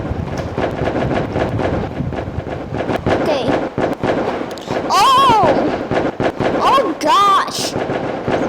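Firecrackers and fireworks explode in dense, loud bursts of bangs and crackling, with whistling rockets rising at intervals and people shouting and talking over the noise.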